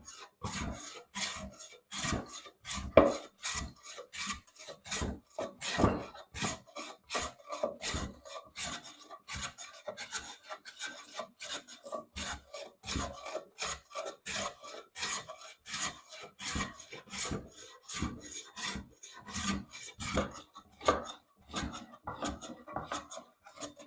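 Hand plane with a freshly sharpened iron taking thin shavings off a big rough piece of walnut, a long series of rhythmic rasping strokes, close and fairly quiet, roughly two per second.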